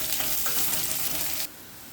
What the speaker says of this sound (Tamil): வெட்டி வச்சுருக்கக்கூடிய சின்ன வெங்காயம், பூண்டு ரெண்டையும் சேர்த்துக்கலாம். இப்போது இது நல்லா பொன்னிறமாக வர்ற அளவுக்கு இதை வதக்கிக்கலாம்.